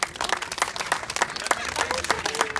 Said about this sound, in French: Et il y a une bonne main d'applaudissement à notre équipe